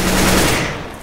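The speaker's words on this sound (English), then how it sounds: "Throw in a flashbang!" A sharp, loud bang from a flashbang grenade in Counter-Strike: Global Offensive on Inferno, a single burst with a brief decaying tail, heard alone.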